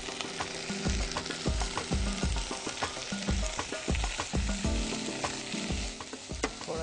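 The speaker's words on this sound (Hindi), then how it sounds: "प्याज को थोड़ा फ्राई करने के बाद आप गोभी को पैन में डाल दें" Cabbage and onion fry in a pan with white vinegar, giving a steady loud sizzle under regular stirring strokes that scrape and thump against the pan in a quick rhythm.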